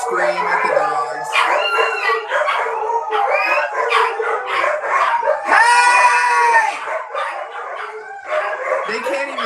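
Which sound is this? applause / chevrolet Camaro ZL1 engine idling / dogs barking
dogs barking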